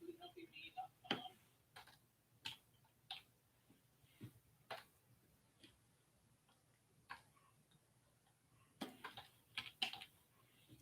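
Sporadic, hesitant typing on a computer keyboard, separate clicks and short bursts with pauses between them, faint and close.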